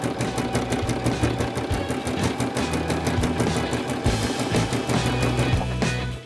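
A sewing machine fitted with a ruffling foot runs steadily while gathering fabric into a ruffle, its fast rhythmic needle clatter continuous and close, pausing briefly near the end before resuming.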